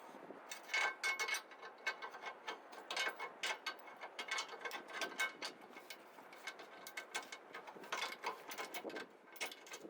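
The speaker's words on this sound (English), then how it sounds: "now we can tighten both the lower strut bolt and the control arm bolt to the main frame" A ratchet wrench clicks rapidly in bursts, close up, while the lower rear strut bolt and control arm bolt on a Dodge Caliber are tightened to the frame, with brief pauses between runs of pawl clicks.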